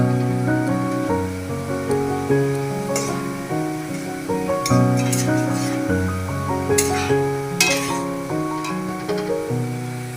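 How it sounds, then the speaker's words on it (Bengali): Potatoes fry in a pan with a soft, steady sizzle and occasional sharper spatters, partly masked by loud melodic music playing throughout. "এখানে আলু ভাজা হচ্ছে।"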